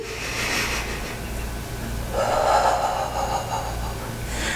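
Someone breathes through a beginner postpartum Pilates mat exercise, with audible, close breaths, a sharper, stronger exhale rising midway, then settling into steady breathing.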